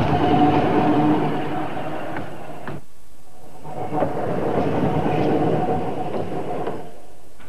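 Blackpool electric street tram running along Britain's last surviving tramway, a steady rumbling roll with a brief quiet gap midway before the rumble resumes, no voices.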